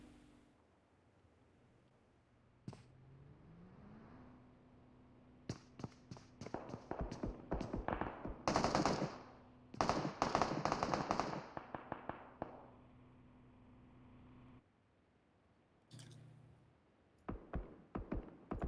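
Gunfire in a PUBG Mobile esports league match: bursts of rapid shots and single cracks come in clusters, some sharp and close, others fainter, over a low steady hum with game sounds between them.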